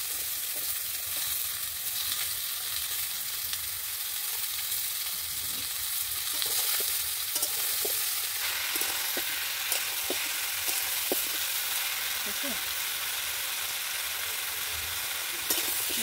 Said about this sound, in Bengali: সবজিটা আমার ভাজা হালকা ভাজা হয়েছে